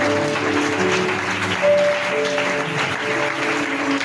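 A church congregation claps and acclaims the Lord in a dense, steady wash of applause, with sustained musical tones ringing underneath throughout.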